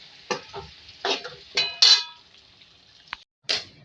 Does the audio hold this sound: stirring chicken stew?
yes